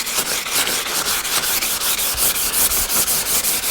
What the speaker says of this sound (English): so now we're going to sand horizontally.